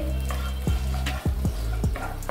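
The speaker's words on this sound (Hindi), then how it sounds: "यहाँ पर जीरा चटकना शुरू हो गया है।" Cumin seeds and chopped ginger crackling in hot oil for a tadka, a steady close sizzle with several sharp spoon scrapes against the pan.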